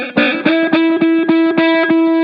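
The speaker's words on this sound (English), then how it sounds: "I'm going to lightly press on the string, and you're going to hear it buzz a little bit until I finally put enough pressure down" Notes on a guitar string under a lightly pressed Black Mountain slide ring buzz and rattle, a quick series of about eight plucks close up, each with a gritty, fuzzy edge before settling, with no talking.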